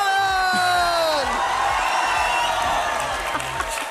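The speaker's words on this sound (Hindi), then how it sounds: "और फिर सबने खड़े होकर तालियां बजाई मेरे लिए" A grand-finale studio audience cheers, whoops and applauds during a standing ovation, a loud continuous crowd roar, with a voice speaking over it and music tones at the start.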